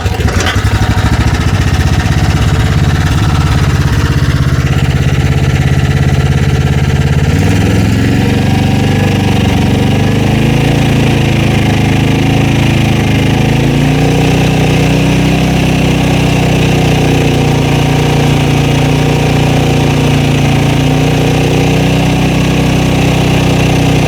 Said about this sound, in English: the engine runs well and sounds pretty